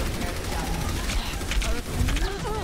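Rapid turret gunfire in the video game Overwatch, a dense continuous rattle mixed with whirring game effects and tonal sweeps, close and busy throughout.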